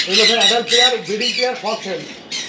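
A yellow-sided conure at a bird farm in Kolkata gives a rapid run of harsh, piercing squawks, close and loud, in short repeated bursts.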